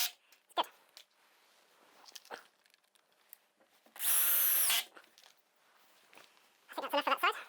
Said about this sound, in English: Just changing the torque setting on the drill